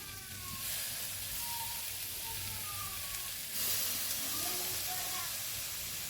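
Cleaned prawns drop into a pan of curry base with green chillies, giving a steady, moderately loud hiss and sizzle that swells slightly partway through, with faint background tones.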